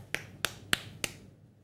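A music teacher in a recorder lesson claps out a rhythm, four crisp, evenly spaced claps heard close and alone in a quiet room.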